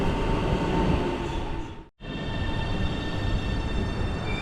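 A Shanghai metro train rides toward Zhongshan Park station with a loud, steady rumble of wheels and carriage noise that cuts out briefly partway through, then resumes.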